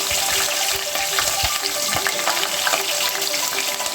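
Green chillies and whole spices (shahi jeera, cloves, cinnamon) sizzling steadily in hot oil in a pan, a continuous loud crackle with faint stirring scrapes and no talking.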